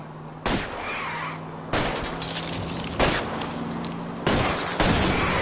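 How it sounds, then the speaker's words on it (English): Single gunshots fired at a fleeing car's tires in the detective game L.A. Noire, four sharp loud reports spaced about a second apart, each followed by a short ringing decay over steady engine and road noise. "I'll try to shoot out his tires"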